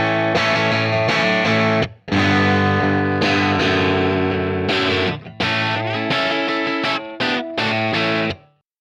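Distorted electric guitar through an amp, miked a few inches back from the grille, playing thick sustained chords and riffs with effects, loud and close, briefly cutting out between phrases, no voices.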